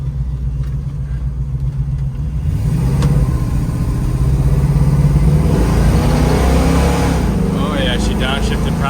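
A 1970 Ford Mustang Mach 1 engine rumbles low and steady, then swells louder as the car accelerates, holding a strong near drone to the end.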